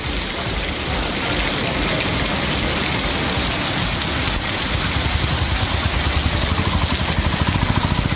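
Heavy rain pours down at night in Vaniyambadi, a dense, loud and steady hiss of falling water that continues without a break.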